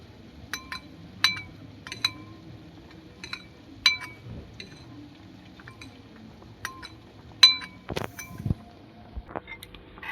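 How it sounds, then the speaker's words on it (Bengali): A spoon clinks sharply against a glass or ceramic container as tomato sauce is scooped for a cauliflower chilli dish, giving a string of spaced, bright taps with soft handling noises between them. "এবার আমি নিয়ে নেব টমেটোর সস, তিন চামচ নিয়ে নেব।"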